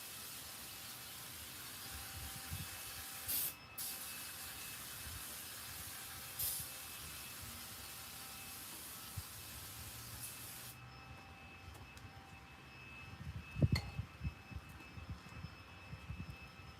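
Brake cleaner sprays onto the brakes of a 1951 wrecker truck in a continuous faint hiss lasting several seconds, with a few clunks of handling near the end.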